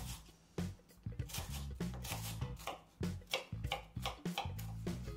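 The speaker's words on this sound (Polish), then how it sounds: "Kroimy je na drobne kawałeczki." A knife chopping wafers into small pieces on a board, a quick run of sharp, close, fairly quiet taps in an uneven rhythm with brief pauses between bursts.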